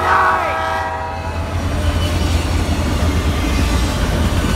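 Norfolk Southern SD40-2 locomotives passing close with a short train at Duluth, Georgia, a horn blast at the start giving way to a steady loud rumble of engines and rolling wheels.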